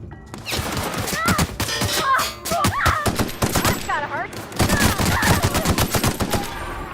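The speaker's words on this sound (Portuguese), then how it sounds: "Tá rolando tiros." Rapid automatic gunfire from The Outer Worlds video game crackles in loud, dense bursts with brief gaps, mixed with game effects and people talking over it.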